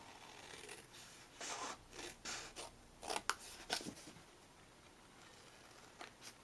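Scissors snip through a paper milk carton template in a series of short, close, crisp cuts, with a few pauses between bursts of snipping.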